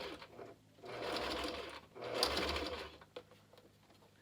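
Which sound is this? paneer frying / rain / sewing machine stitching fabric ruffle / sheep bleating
sewing machine stitching fabric ruffle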